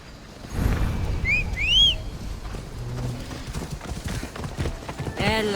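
Horse hooves clip-clop steadily while riding in Assassin's Creed Odyssey, a rhythmic trot running under game sounds, with a couple of bird-like whistles and a voice talking in places.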